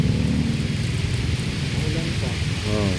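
Rain falls at the site of a dump truck accident near a bridge in San Isidro, Rodriguez, Rizal, a steady wash of noise under low rumbling and a voice speaking near the end.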